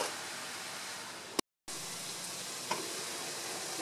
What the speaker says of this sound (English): my mushroom and meat sauce is boiling nicely